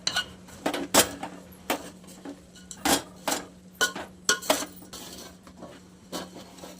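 Boondi ladoo mixture being stirred in a metal pot with a utensil, giving a run of sharp, irregular scrapes and clinks against the pot, close and fairly loud, with a steady low hum beneath and no talking.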